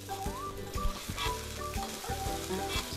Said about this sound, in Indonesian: So kita tumis sehingga bawang kisar tadi garing